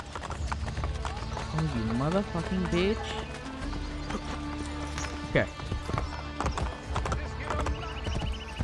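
Horse hooves clip-clop and a whinny rises in Assassin's Creed Brotherhood, mixed with game sound effects while someone talks loudly over them.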